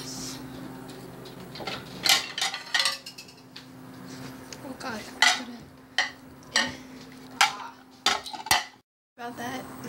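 Dishes and cutlery clatter in a sink during washing up, with repeated sharp clinks and clanks in irregular bursts over a low background hum and a brief pause near the end.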